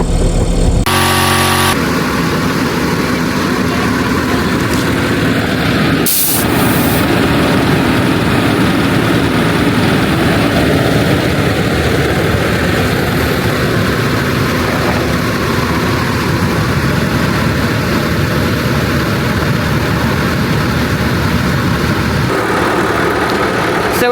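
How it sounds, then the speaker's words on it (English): An air compressor runs steadily and loudly beside a car with a leaking tire, a continuous mechanical drone holding nearly unchanged for over twenty seconds, with a brief clunk near the start. "we brought the air compressor over so we can fill up the tire with air"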